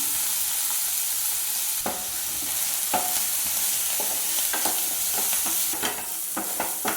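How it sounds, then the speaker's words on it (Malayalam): Chopped onion fries in coconut oil, a steady close sizzle broken by repeated scraping stirs of a spoon against the pan, with no talking. "വലിയൊരു സവാള ചെറുതാക്കി എടുത്തതായിരുന്നു ചേർത്ത് കൊടുക്കാം"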